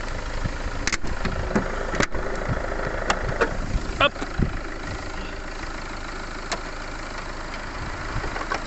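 A Citroën Picasso with PSA's 2.0 HDi 90 hp diesel idles steadily with the bonnet open, a close low clattering drone under occasional knocks and a short spoken word, the car having come in with an engine warning light.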